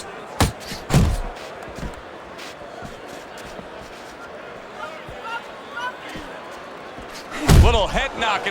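Heavy punches thud in a Fight Night Champion boxing simulation of Lennox Lewis against Tommy Hearns, two sharp blows early, then a louder cluster of impacts near the end, under a low crowd murmur and commentary.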